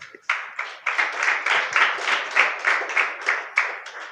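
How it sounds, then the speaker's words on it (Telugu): Worshippers at a New Year church sermon break into sustained clapping that quickly settles into a strong, regular beat, many hands together, loud and near, with a faint voice briefly at the start. "చప్పట్లు కొడదామా?"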